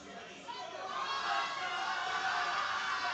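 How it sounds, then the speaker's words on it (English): A crowd at a high school powerlifting national meet cheers from some distance, a diffuse and fairly faint roar that swells slightly and holds steady. "We hear the crowd over there"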